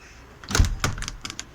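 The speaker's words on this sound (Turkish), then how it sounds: "Kapat kapıyı." A balcony door swings shut with a few quick knocks and rattles of the frame and latch, close and moderately loud, with no talking.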